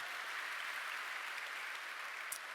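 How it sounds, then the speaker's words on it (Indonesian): Steady, dense applause from a church congregation, a continuous wash of many hands clapping at an even level throughout, with no voices rising above it. "Tepuk tangan bagi Allah kita."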